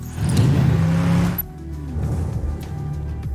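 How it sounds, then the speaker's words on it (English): A car sound effect used in a sound design transition: a loud close engine roar with a rising whoosh that cuts off abruptly, followed by a lower, quieter rumbling motor tone. "when you add the rest of the sounds for the car, you get a really great transition using only sound design."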